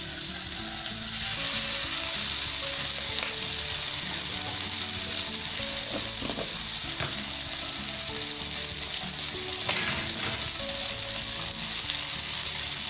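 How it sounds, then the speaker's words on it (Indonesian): Anchovies and green chili stir-fry with oyster sauce in a hot pan, a steady loud sizzle with occasional scraping stirs running unbroken throughout. "tumis sampai cabai hijau matang"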